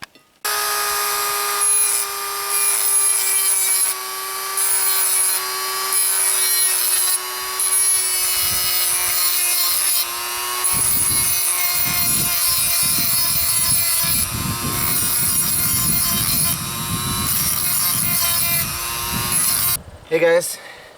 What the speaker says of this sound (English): I'm using my Tech Life rotary tool to sharpen this grass whacker thing